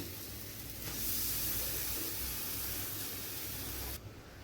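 Spinach paste added to fried spices for palak keema with paneer: a loud, hissing sizzle bursts up at about one second, holds steady for a few seconds, then quickly drops away.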